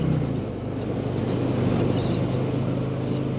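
Harley-Davidson Fat Boy 114 V-twin motorcycle rumbling at steady low revs, a continuous deep throbbing drone mixed with road and wind noise while riding.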